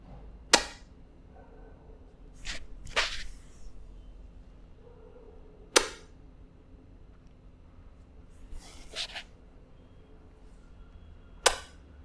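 Lips stretched upward and released with a pop during a face yoga exercise; three sharp, isolated pops spaced several seconds apart, with faint softer sounds in between and no talking.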